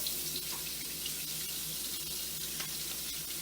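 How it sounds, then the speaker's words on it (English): Tap water runs steadily over shrimp in a kitchen strainer at the sink, a continuous close hiss and splash with no talking. "So it's pretty simple, just put it in a strainer, rinse it out, no problem."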